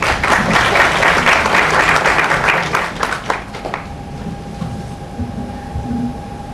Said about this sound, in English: I think the claps were not enough.